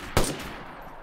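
A single sharp gunshot in DayZ, loud and close, cracking out and then fading into a soft tail and faint background hiss.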